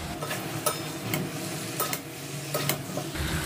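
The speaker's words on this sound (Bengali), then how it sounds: "মশলাটার সাথে সবকিছুকে ভালো করে আগে মিশিয়ে নিচ্ছি।" A spoon scrapes and stirs fried potatoes, elephant foot yam and prawns into oily masala in a pan, with several distinct strokes over a steady low sizzle, close up and with no one talking.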